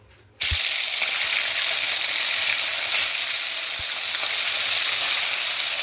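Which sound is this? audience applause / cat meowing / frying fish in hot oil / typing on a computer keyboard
frying fish in hot oil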